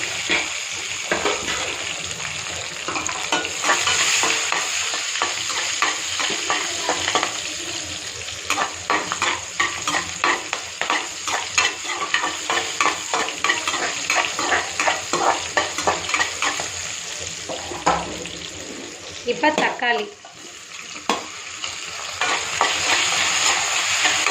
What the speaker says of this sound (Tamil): நம்ம வெங்காயம் பச்சை மிளகாய் வதக்கிக்கலாம்